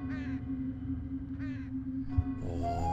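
Birds in The Lost Crown video game caw in three harsh, separate calls spaced about a second apart, loud and clear over a steady low ambient hum.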